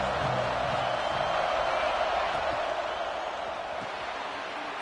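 Stadium crowd in an American football video game, a steady dense roar of many voices holding at an even loudness throughout, broad and continuous like distant cheering in a packed arena.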